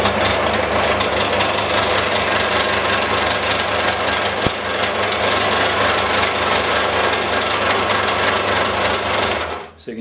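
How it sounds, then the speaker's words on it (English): A belt sander, freed after being stuck, runs continuously with its belt spinning, giving a loud steady mechanical whir and rub that holds for about ten seconds before cutting off abruptly at the end. "both rings are spinning, the belt is spinning, it's not sticking anymore"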